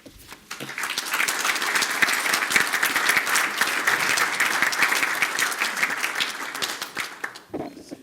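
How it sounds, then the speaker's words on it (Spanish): Audience at the Colegio de Ingenieros Civiles de México applauding to welcome a guest speaker, a sustained, full round of clapping from a room of people that rises quickly and fades out near the end. "Recibamos con un aplauso a nuestro invitado"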